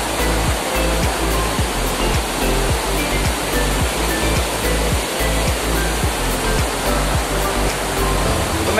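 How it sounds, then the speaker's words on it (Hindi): Fast, swollen river in a village running high after continuous rain, a loud, steady roaring rush of water filling the whole soundscape without pause, close by. "दोस्तों आप देख सकते हैं कितना तेज पानी हो चुका है नदियों में"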